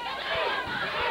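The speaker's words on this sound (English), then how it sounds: "the crowd now picking up the chant of 2" A wrestling crowd at a Southern Championship Wrestling show in Georgia chants "two" in steady, evenly spaced beats through a dense, loud wall of arena noise.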